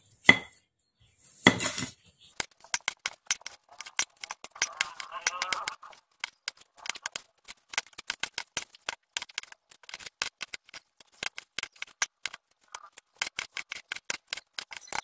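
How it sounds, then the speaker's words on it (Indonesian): Turmeric root is thinly sliced with a knife on a board, quick clicking cuts coming in irregular bursts with short pauses, close and crisp, while someone talks in between. "Kalau kunyit kita potong tipis-tipis, jadi lebih mudah untuk di blender dihaluskan gitu ya."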